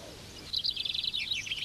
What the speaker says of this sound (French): comptent les trilles d'un pinson tiré au sort